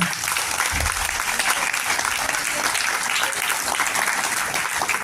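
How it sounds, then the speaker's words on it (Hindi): Sustained, dense applause from an audience at a blind persons' organisation's 78th foundation day event in a college hall in Vile Parle, steady and fairly loud throughout. "जोरदार तालियां।"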